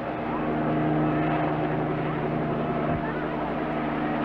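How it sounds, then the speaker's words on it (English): A helicopter flies close by in a 1976 film scene, its engine and rotors giving a loud, steady droning roar with a low throb that continues unbroken throughout. "Chopper to the south side."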